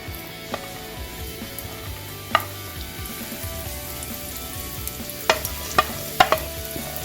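Beetroot fries in hot coconut oil in a pan for an Onam pachadi, giving a steady close sizzle broken by several sharp clinks and scrapes of a spoon against the pan.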